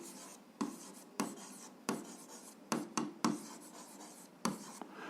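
A pen scratches across paper while an algebra exercise is worked out, in a series of short, sharp strokes with small pauses between them, close and clear with no talk.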